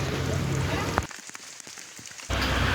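Rain from three days of nonstop downpour falls as a steady hiss, cuts away for about a second to sparse ticks and drips, then returns at full strength.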